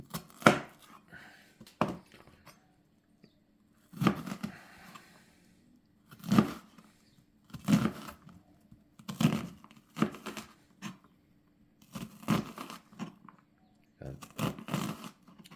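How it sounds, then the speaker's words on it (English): Scattered knife chops dicing an onion on a cutting board, irregular crunchy strikes in short bursts with pauses, close by and fairly quiet. "dice the onion."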